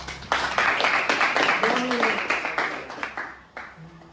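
Students in a school classroom clap their hands together, a burst of fairly close applause that fades away over a few seconds, with a voice speaking over it.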